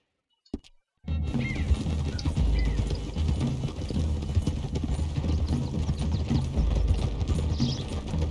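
Several horses trot steadily in the video game Red Dead Redemption 2, continuous clip-clopping hooves after a brief click and silence, a busy rhythmic patter with faint harness jingles.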